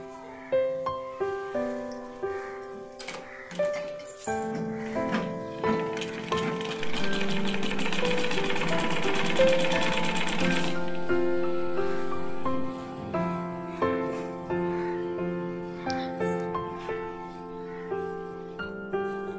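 A sewing machine stitches the sleeves of a blouse, with short bursts of rapid mechanical whirring separated by pauses and one long continuous run in the middle, close and fairly loud, while background music plays.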